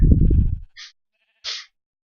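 A sheep in a survival video game gives a short, buzzy bleat, loud and close, followed by two brief soft rustling sounds with silence between.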